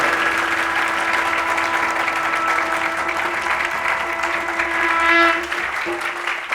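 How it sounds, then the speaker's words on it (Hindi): Steady applause from an audience at a Holi celebration, with a sustained musical tone and hum running beneath the continuous clapping. "जोर से तालियां बजाओ प्लीज"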